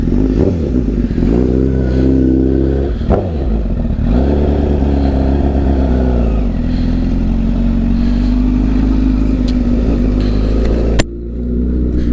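A loud 2015 Honda CBR1000 sport motorcycle with an aftermarket exhaust revs and idles up close, with a deep, throaty exhaust rumble rising and falling through several throttle blips.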